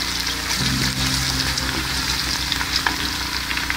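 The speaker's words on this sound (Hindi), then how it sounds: "जीरा डाल के हल्का से इसको भूनेंगे" Steady sizzling and crackling of cumin seeds frying in a hot pan, with faint stirring scrapes; close and continuous, no one speaking.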